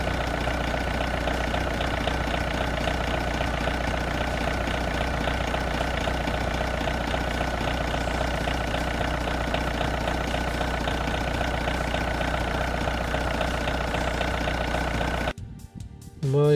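A car engine idles steadily and loudly, a constant rough drone close by for about fifteen seconds before cutting off abruptly near the end.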